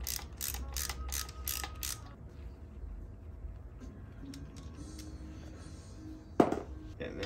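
A quick run of close ratchet clicks while removing the cam chain tensioner on a 2007 Harley-Davidson Ultra Classic engine, followed by quieter metallic handling and a sharp clank, with someone speaking.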